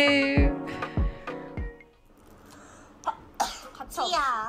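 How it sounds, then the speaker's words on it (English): A short sharp sneeze bursts out amid voices, followed by laughing and excited chatter; earlier, a few abrupt vocal bursts punctuate the scene. "Wait, did she sneeze, right?"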